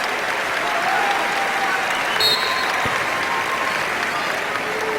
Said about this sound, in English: gets a very well-deserved hand from the Peterson crowd.